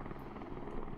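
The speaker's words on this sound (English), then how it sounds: "that's a helicopter event" A helicopter event in the zombie survival game Project Zomboid: a steady, dense rotor drone fills the moment, loud and continuous with no talk.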